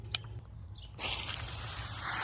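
Water sprays hard from a garden hose nozzle onto potting soil around newly planted peppers, bursting on after a quiet start into a steady, loud broadband hiss that continues to the end.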